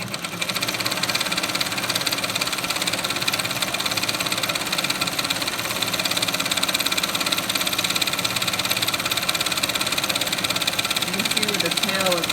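Brother 9-needle embroidery machine running steadily after start, a fast continuous mechanical chatter and hum at close range, with a voice speaking briefly over it.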